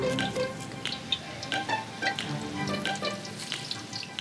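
Garlic sizzling as it fries in a pan with chicken for an herb chicken dish, a steady close crackle with scattered pops and light stirring throughout.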